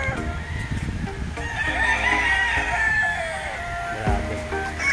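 White kelso gamefowl roosters at a game farm in Tanay, Rizal crow and cluck nearby, with one drawn-out crow over a background of other birds, lasting a few seconds.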